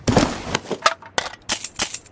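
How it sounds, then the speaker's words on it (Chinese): The older item-pickup sound effect from the mobile battle-royale game Peace Elite: a quick series of sharp, dry clicks and snaps in an irregular rhythm, close and crisp with brief silences between them. "这是之前捡东西的音效"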